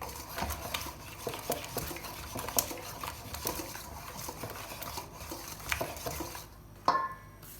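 A spoon stirs a sugar and egg mixture in a bowl for an economical oil-based dessert, quiet repeated scraping and clinking strokes close by, with a few sharper knocks near the end.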